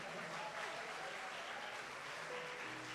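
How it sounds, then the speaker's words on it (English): Very faint clapping from an audience as a panel speaker walks off stage at a university event, a soft continuous patter with a few faint tonal sounds in the background. "Give him some walk off the stage clapping"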